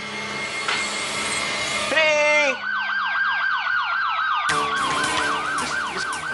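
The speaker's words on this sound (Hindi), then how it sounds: "पुलिस का सायरन?" A wailing police siren cycles rapidly up and down, loud and close, switching patterns partway through with a higher whooping tone.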